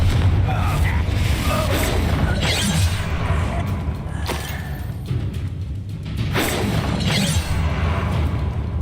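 Confringo fire spell cast during combat in Hogwarts Legacy, heard as a dense booming, crashing burst inside a continuous loud game mix of rumbling impacts and clatter, with a few sharper hits standing out.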